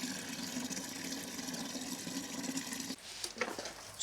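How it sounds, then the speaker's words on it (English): Water sprays steadily from a garden watering lance fed by a Bosch pump onto vegetable beds, a continuous close hiss that briefly drops and shifts near the end. "I'll apply a lot more water and wash it all into the ground"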